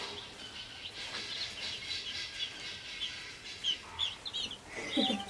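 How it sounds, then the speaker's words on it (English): Young Cornish-Cross meat chicken chicks on a homestead peep in high, thin bursts, scattered and irregular, growing busier and louder toward the end, with no talking. "So these are Cornish-Cross chicks that we got."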